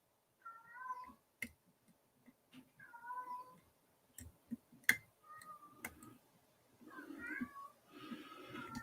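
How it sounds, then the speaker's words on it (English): Cats caterwaul outdoors in the distance, drawn-out wavering yowls that come in several separate bursts, alongside sharp metallic clicks from lock picking close by. "I've got cats over there screaming about something."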